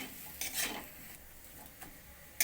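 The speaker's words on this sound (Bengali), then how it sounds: "হলুদ দিয়ে আলুটা ভালো করে সমস্ত কিছুর সঙ্গে একসঙ্গে মিশিয়ে নিয়েছি" Potatoes tossed with turmeric and spices in a pan for a bread chop filling, giving a few close scraping and stirring strokes with light clinks of utensil on metal, alone without talk.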